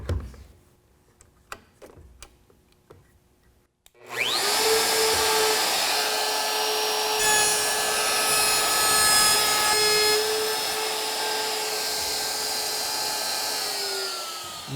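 Router cutting a hinge mortise in a wooden box clamped to a bench, with a few sharp knocks before a loud, steady high-pitched whine starts and runs continuously to the end.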